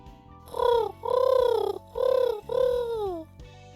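A bird, likely a dove, coos four times in slow, rounded, evenly spaced calls, close and clear with no talking.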